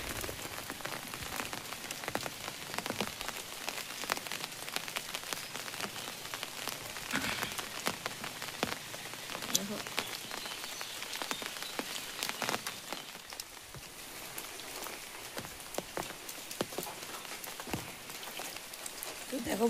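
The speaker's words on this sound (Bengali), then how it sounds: "দেখো বন্ধুরা বৃষ্টি পড়ছে ভালোই" Steady early-morning rain around five at dawn falls continuously on surfaces outdoors near a house, a dense, even patter with scattered louder drops throughout.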